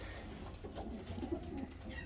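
Soft, low pigeon cooing repeats under a murmur of background noise, close and gentle.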